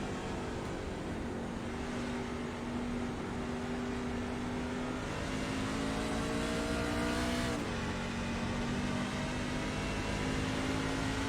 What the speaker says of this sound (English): You can hear the throttle control that he's using coming up off the corner.